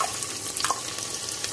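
Chopped onion sizzles in two spoons of oil inside a pressure cooker, a steady close crackling hiss with light stirring scrapes over it.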